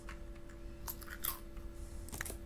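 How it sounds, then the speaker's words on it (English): Villagers chewing as they eat in the video game Towns, a soft, faint crunching and munching with a few brief clicks over a quiet background hum. "I think that's the noise they make when they eat"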